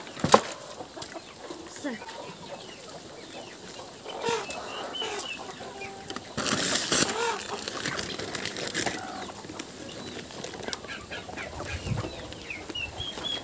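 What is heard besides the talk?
poultry clucking and flapping wings while fighting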